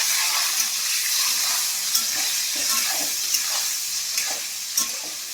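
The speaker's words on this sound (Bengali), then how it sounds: "এই লঙ্কা হলুদগুলো তেলের মধ্যে দিয়ে দেবো" Chillies and turmeric fry in hot oil in a pan for duck egg curry, giving a loud, steady sizzle and hiss with a few sharp crackles and spatters.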